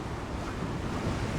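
Strong wind roars across the microphone with steady surf and waves washing around a family sailboat heading out into deep water, a dense, continuous rush with no voices.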